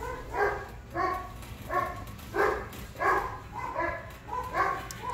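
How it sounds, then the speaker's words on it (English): Several dogs bark in a steady series of short, fairly loud bursts, roughly one every half to three-quarters of a second, with a few whimpering yips and no talking. "Sorry about the barking."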